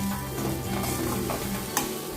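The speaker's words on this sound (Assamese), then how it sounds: "মই আৰু অকনমান ভাজি লম বুলি ভাবিছো" Fiddlehead fern (dhekia) greens frying in a pan, a steady close sizzle with a brief sharp scrape of stirring near the end, no voices.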